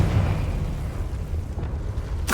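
A Confringo fire spell blast from Hogwarts Legacy, a rumbling, eruptive boom that rolls on for a couple of seconds before a sharp burst at the end, with no talking.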